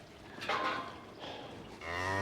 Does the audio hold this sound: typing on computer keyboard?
no